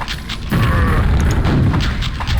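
The jib gun going off in a video game gives a loud, deep boom that swells into a broad, sustained rumble lasting a couple of seconds, fairly close and with no talk over it.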